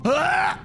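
A voice imitates gagging while brushing the tongue: a single close, strained groan rising in pitch and lasting under a second.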